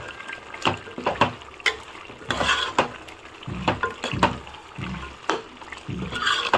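Chicken curry with coriander powder being stirred in a pan, repeated scraping and clattering strokes over a wet sizzle, in an uneven rhythm of roughly a dozen bursts.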